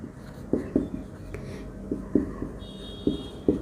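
Pen strokes on paper as a math answer is written out, with short scratchy taps and squiggles coming in small irregular clusters close by. A faint background tone and quiet room noise sit underneath.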